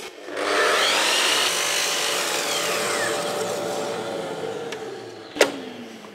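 Long mitre cut through slippery clamped melamine board with a power saw, a steady sustained whine and rasp running for about five seconds before a sharp knock as the blade finishes.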